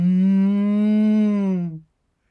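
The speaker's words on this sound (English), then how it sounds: "It's a cow." A single long, loud cow moo, steady and low, fading out after nearly two seconds, with no talking.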